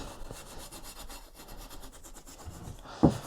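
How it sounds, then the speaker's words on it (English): An 80-year-old block plane is scrubbed with Scotch-Brite style pads to strip grease and grime, a steady rapid rasping rub up close, ending in a single sharp knock near the end. "I'm just going to use these Scotch-Brite style pads"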